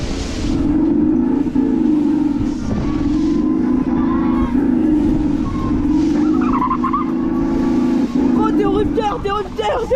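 An amusement park ride at Parc des Combes hums loudly as it accelerates and brakes, with a steady mechanical drone, squealing tones and people talking over it near the end.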